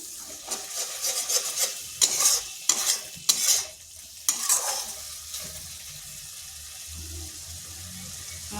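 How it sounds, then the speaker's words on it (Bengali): Spice masala sautéed in oil, with a spatula scraping and stirring in quick bursts over a sizzle that settles to a quieter hiss. "মশলাটা একটু কষে নিচ্ছি"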